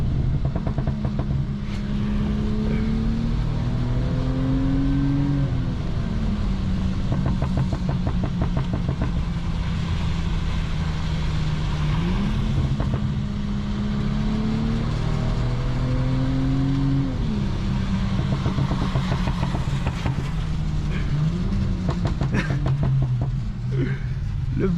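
A 2014 BMW 335i's engine revs and pulls hard while driving, its loud, close drone rising and falling in repeated sweeps through the gears and running steadily for the whole stretch.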